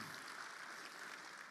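Sustained audience applause at a congress hall, steady dense clapping from a large crowd, even in level throughout with no voices on top.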